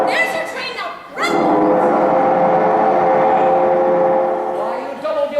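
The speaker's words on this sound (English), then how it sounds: "There's your train now." A train approaches and rolls past in a period musical scene, with a loud sustained rumble and ringing tones building after a brief sharp onset, mixed with voices and a dog-like yip.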